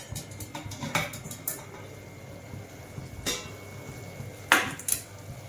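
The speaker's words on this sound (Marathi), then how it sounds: "आपण आता याच्यावरचं झाकण काढून बघूया." A metal lid is lifted off a pot of home-style mutton: a few soft clanks and a louder metallic clatter over a low, steady simmer, with the sounds spaced out.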